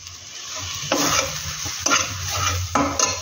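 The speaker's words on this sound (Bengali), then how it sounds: "এবার আমি এতে দিয়ে দেব ধনে গুঁড়ো, কাশ্মীরি লঙ্কার গুঁড়ো আর হলুদের গুঁড়ো।" Meat frying in a pan with added coriander, Kashmiri chili and turmeric powder, a steady close sizzle broken by three brisk bursts of stirring scrapes.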